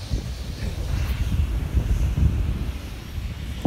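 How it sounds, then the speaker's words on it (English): Strong cold wind roars and thumps against the microphone on a snowy summit in continuous low gusts, with no voices, a steady blustery rush throughout. "it's really cold and windy at the top here"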